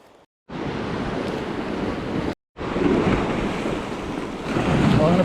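Surf breaks against a harbour wall beside a shallow sandy beach, a loud continuous wash of water with heavy wind buffeting the microphone and two brief dropouts.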